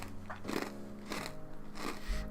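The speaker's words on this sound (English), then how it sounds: "I'm moving the mic so far away from my mouth and you can still hear me crunch" Close crunching and chewing near a microphone, a few distinct bites in irregular rhythm, with no talking.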